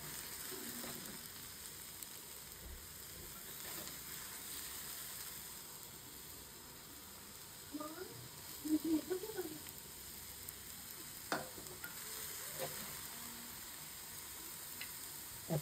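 Onions and green chilies frying in a pan, a soft, continuous sizzle with occasional scrapes and clatters of stirring, heard close but fairly quiet.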